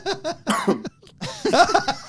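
A series of sharp coughs in two bursts, loud and close, with a brief pause between the groups and no talk.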